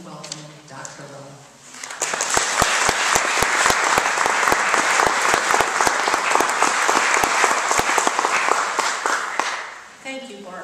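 An audience in a lecture hall applauds warmly to welcome Dr. Lowe to the stage. The dense, steady clapping swells after a brief spoken introduction, holds for about eight seconds, then tapers off as a voice resumes.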